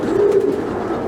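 A tippler pigeon, a young cock bird of this year, gives a single soft, low coo up close, with no talk over it.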